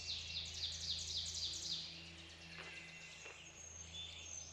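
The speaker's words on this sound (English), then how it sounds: "In the mix of all these bird sounds, there's a barred owl" Wild birds sing in a wilderness woodland, with rapid repeated high chirps and trills over a steady low hum, fairly faint and distant with no voices.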